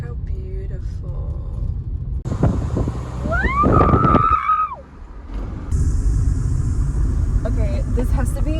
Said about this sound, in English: This is literally just driving off the ferry.